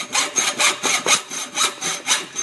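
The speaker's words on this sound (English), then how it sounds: "using a normal hacksaw, is just come around and I put a slot in the front here." A normal hacksaw cuts a slot into the front of an adult tricycle's seat post clamp, giving about nine steady, close back-and-forth rasping strokes with no talk.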